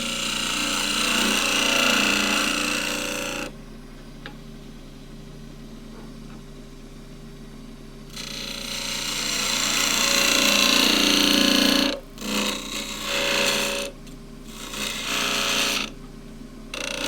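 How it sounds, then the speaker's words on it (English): A skew chisel cuts wood on a lathe, making loud, continuous shaving and hissing passes that alternate with quieter stretches where the lathe hums steadily. The cutting grows louder at first and then breaks into shorter cuts near the end. "So we're back to the skew chisel."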